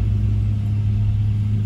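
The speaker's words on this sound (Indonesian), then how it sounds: "Ini kalau truk mendaki gini nih." A truck engine labors up a steep mountain road between Malili and Kolaka, a loud, steady low rumble that stays constant and close.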